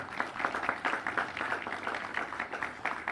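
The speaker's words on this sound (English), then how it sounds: "Let's give her a round of applause, everyone." Applause at an outdoor ribbon-cutting ceremony, a steady patter of clapping from a modest crowd heard at a distance and fairly faint.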